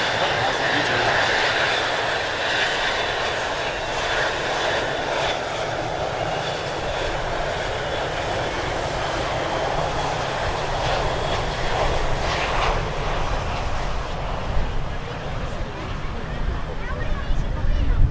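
US Navy Blue Angels jets, pilots one through four in diamond formation at the New York International Air Show, roar steadily and loudly throughout under a murmuring crowd.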